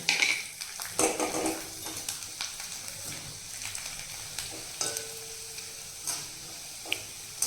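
Colored papad frying in hot oil in a pan while being stirred, a continuous crackling sizzle broken by sharp clinks and scrapes of the utensil against the pan at irregular intervals.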